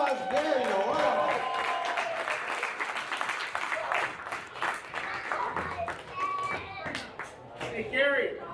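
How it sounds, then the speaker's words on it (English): A crowd at the Kelowna BMX 2024 club awards applauds sportsmanship award winner Gary Noel, with steady, fairly close clapping running throughout and voices and children's chatter mixed in. "Give him a round of applause"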